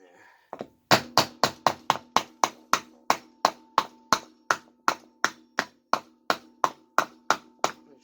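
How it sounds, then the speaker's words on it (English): Steady, rapid hammer blows on a wooden block press a Tange-Seiki Passage 1-inch threaded bicycle headset cup into place, about twenty crisp, close knocks in an even rhythm after a couple of lighter opening taps. "Hammer it in there."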